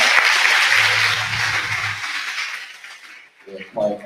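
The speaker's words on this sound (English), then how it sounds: "let's give another round of applause for the wonderful groups that have performed for us" An audience claps loudly after performances at a 2022 summer music camp concert, a dense burst of applause that fades after a couple of seconds before a voice starts speaking.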